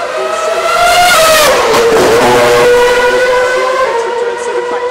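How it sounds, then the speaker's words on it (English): A Formula 1 car flat out at about 290 km/h on the rev limiter during 2011 Singapore Grand Prix qualifying, a loud, continuous high-pitched engine scream with a brief pitch dip and recovery, sustained throughout with no talk. "290 kilometres an hour. And just on the rev limiter"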